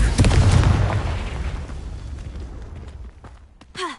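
A Confringo fire spell explodes in Hogwarts Legacy with a loud, heavy boom that rolls out and slowly fades into a low rumble, followed by a short faint chirp.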